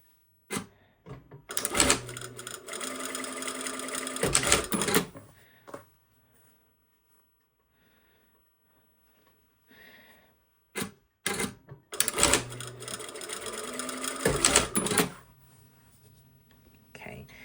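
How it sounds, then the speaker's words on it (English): Sewing machine stitching the facing of a dress bodice together at the shoulders and side seams, in two long bursts of steady whirring separated by a quiet pause with a few soft clicks and handling noises. "sewing the facing together at the shoulders, and the side seams."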